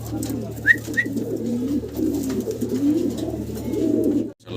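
Silver Sirazi pigeons coo in low, soft, repeated rolling calls, with a couple of brief higher chirps early on and a steady hum underneath.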